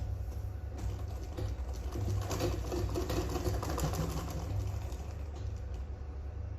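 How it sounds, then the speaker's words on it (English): A sewing machine runs steadily while stitching the side seam of a sleeveless gown at a half-inch allowance, a close, continuous mechanical whir with a low hum and no speech. "you are going to start sewing with your 1/2 inch"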